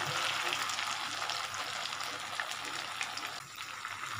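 Chicken pakora frying in oil gives a steady, close crackling sizzle with small pops throughout, continuous and fairly even in loudness.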